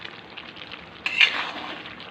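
Chopped tomato goes into a pan of chicken kasha, landing with a sudden close sizzle and scrape of stirring, the frying swelling briefly and then simmering on steadily.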